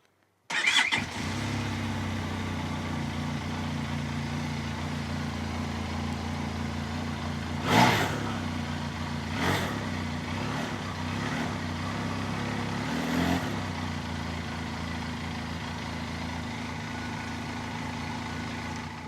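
A Benelli TRK 502X motorcycle engine starts and settles into a steady, close idle, broken by three short throttle blips that briefly raise the revs before dropping back.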